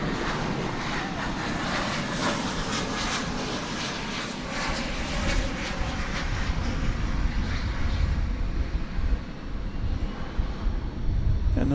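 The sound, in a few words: Spirit Airlines aircraft arriving from Las Vegas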